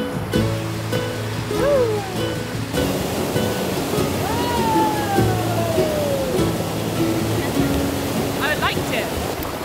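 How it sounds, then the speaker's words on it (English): Steady rushing water from a waterfall among turquoise pools in Tuscany, Italy fills the clip, a broad continuous roar, with faint voices and a few bird-like calls over it. "all these little perfect turquoise pools and waterfalls"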